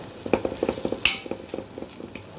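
Fish and vegetable stalks fry together in a pan for a curry, with a close sizzle and quick, rhythmic scraping stir strokes repeating throughout.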